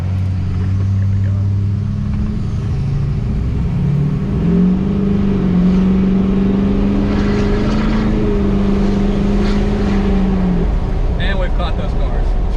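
Tuned diesel pickup truck accelerating at full throttle, a loud close engine roar rising steadily in pitch as it pulls hard, with some wind and road noise over it.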